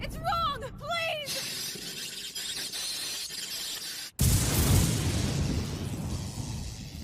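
A loud explosion in the dubbed animated series Code Breaker bursts in after a sharp cutoff, a sustained roaring blast with shattering texture following a stretch of tense score and dialogue.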